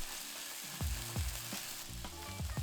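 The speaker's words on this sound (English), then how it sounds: "In a medium-sized Dutch oven, oil it. Throw in your ground lamb" Ground lamb sizzles in an oiled Dutch oven over medium-high heat, with a steady close frying hiss and a few soft spoon or stirring knocks spread through the short stretch.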